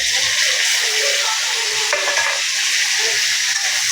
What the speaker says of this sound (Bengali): এখন এই মশলাটা দিয়ে দেবো,